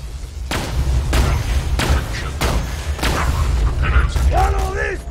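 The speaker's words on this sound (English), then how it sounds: "Oh, they're shooting electricity stuff." Enemies fire electric weapons in Borderlands, a series of loud, crackling blasts spaced about half a second to a second apart, with a warbling tonal zap near the end.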